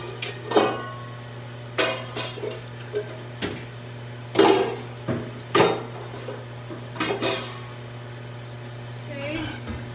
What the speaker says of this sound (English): My pasta is done, so I'm gonna drain it really fast.